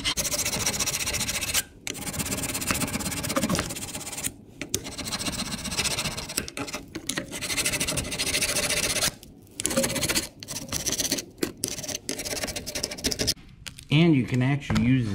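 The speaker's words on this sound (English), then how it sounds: "Now I'll show you using the bigger file." Metal file rasping over a rusty brake caliper bracket, a larger file working in repeated strokes, close and fairly loud with brief pauses between passes.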